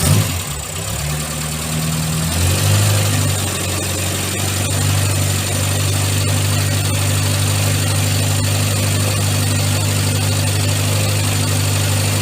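A Morris Minor engine idles steadily and close by, dropping to a lower, smoother hum after the throttle is lifted early on, then holding an even drone with faint mechanical ticking.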